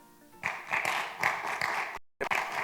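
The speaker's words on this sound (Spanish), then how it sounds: "Lo recibimos con un fuerte aplauso" A conference audience claps to welcome a speaker onto the stage, starting after a short quiet moment and continuing as a few distinct bursts of clapping with a brief gap near the end.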